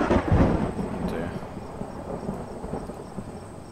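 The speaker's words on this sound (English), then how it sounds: "It's thundering quite bad." Thunder in the Airport CEO video game, a low rolling rumble that swells at the start and then fades into a long steady grumble with a soft rain-like hiss, fairly quiet throughout.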